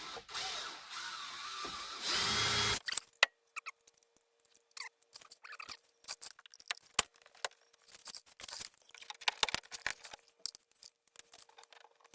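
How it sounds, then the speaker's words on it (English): A power drill whirs loudly for a couple of seconds drilling holes in brand-new plastic, then stops, followed by scattered clicks, taps and handling noises. "Drilling holes in brand new Viking plastic."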